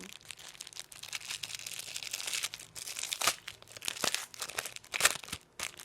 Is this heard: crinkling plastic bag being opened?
yes